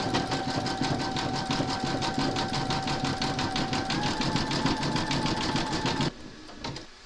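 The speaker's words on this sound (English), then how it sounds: "Load your thread colour and matching bobbin, if appropriate, for the boots into your machine, and then stitch round number 9." A Brother embroidery machine stitches the boots of a large whimsical Santa design in black thread, a steady rapid mechanical chatter with a faint whine, up close, stopping abruptly near the end.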